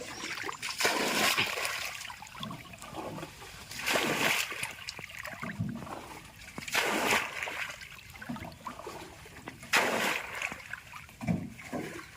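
Water splashes again and again in rhythmic scooping bursts, each followed by trickling. Faint voices can be heard under the splashing.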